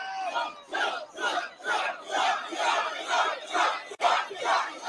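A large political rally crowd in the Bronx chants and yells in loud rhythmic bursts, roughly one surge every half second, with massed voices rising and falling together close to the microphone.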